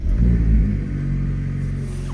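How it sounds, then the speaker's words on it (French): A 292-horsepower Alpine A110 S engine fires up close by with a loud, rumbling rev-up that settles into a steady, deep idle over about two seconds. "Nous allons démarrer le véhicule juste ici."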